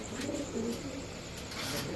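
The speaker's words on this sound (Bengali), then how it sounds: "এখন আরেক জোড়া সাপচিলা কবুতর দেখাবো" A pair of old-breed Sapchila pigeons, male and female, coo softly with low, repeated throaty calls over steady background noise.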